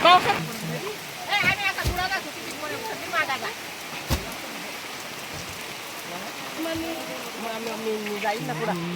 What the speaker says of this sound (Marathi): पाऊस आला